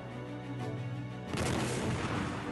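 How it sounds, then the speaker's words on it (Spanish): Cannon fire during the Spanish siege of Cuautla, a low rumbling bed that gives way to a sudden booming blast with a long, rolling, noisy decay. "El sitio de los españoles pronto traería el dolor de los cañonazos del primer día."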